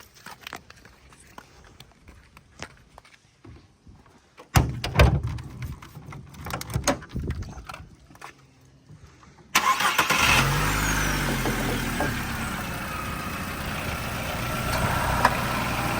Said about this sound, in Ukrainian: зараз запустимо двигун